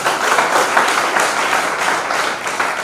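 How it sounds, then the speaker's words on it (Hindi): Audience applause at a Modicare motivational talk, dense steady clapping from a crowd, loud and sustained with no talk over it. "एक बार जोरदार ताली आप"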